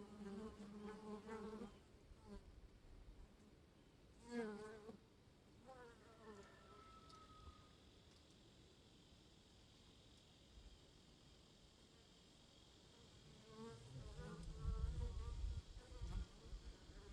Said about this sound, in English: There's bees going and coming back.